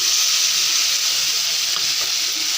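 Spice paste of turmeric, cumin, coriander, onion, garlic, ginger and green chili paste sizzles steadily and loudly in a hot pan, a dense continuous hiss with faint stirring scrapes and no talk.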